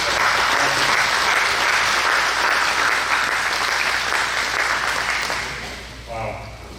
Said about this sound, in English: if we can give you a round of applause